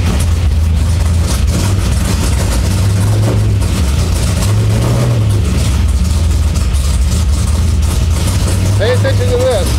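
A race car engine fitted with a Holley 4150 carburetor runs in neutral with a little throttle: a loud, close, steady low rumble that swells slightly at moments, with a voice faintly present.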